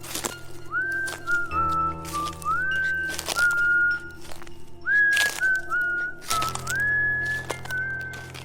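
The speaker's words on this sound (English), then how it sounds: "And with each pause came that whistling." Eerie, slightly off-key whistling in short sliding phrases repeated with pauses, set against a low droning background and occasional sharp cracks, in a horror camping setting at night.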